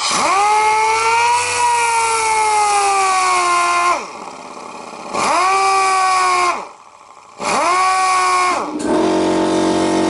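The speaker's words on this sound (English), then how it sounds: "I'll just get my air sander here" A pneumatic air sander works a wooden chess pawn from the lathe in three loud, close bursts, each whining at a steady high pitch before winding down, separated by brief pauses.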